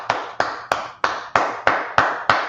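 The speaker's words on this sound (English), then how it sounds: "Let's clap it up for that." Hand claps at a brotherhood class gathering, about eight sharp, evenly spaced claps in a steady rhythm, close and clear with no talk over them.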